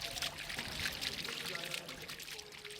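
Water pours steadily into a long reflecting pond in the Alhambra courtyard in Granada, a continuous bright splashing flow that fills the scene and thins slightly near the end.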